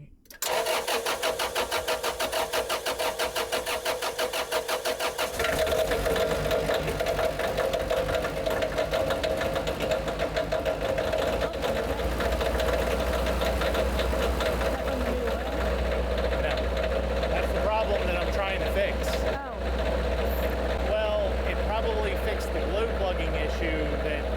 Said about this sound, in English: going to start it from in here. I'm going to glow plug it for 30 seconds.